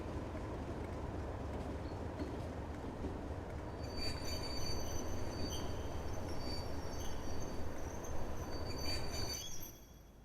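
A diesel train in the Train Simulator Classic video game on the Keighley and Worth Valley Railway, rumbling steadily with a heavy low roar, joined midway by high metallic wheel squeals that fade as it stops at a platform.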